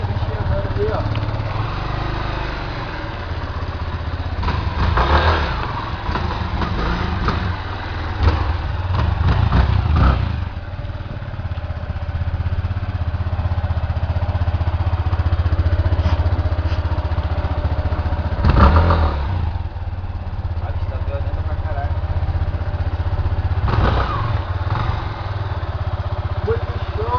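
A 2013 flex motorcycle engine, red and black, rumbling nearby, idling steadily with a few louder revs, while people talk over the running motor.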